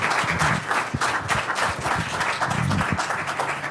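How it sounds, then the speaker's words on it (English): Audience at a school board of education meeting giving a round of applause, steady dense hand clapping from a room full of people, close and fairly even throughout. "can we get a round of applause?"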